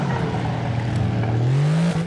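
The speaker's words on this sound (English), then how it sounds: "That's the sound of classic American crossplane crank V8 for you." A Ford Mustang GT's crossplane V8 in a racing video game at Spa-Francorchamps, a loud, close engine drone with a low burble that climbs steadily in pitch as the car accelerates, heard alone.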